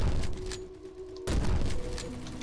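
Model 1887 lever-action shotgun in the game Bad Business fires a single loud, sharp blast that cuts off abruptly, then a second boom follows after a pause.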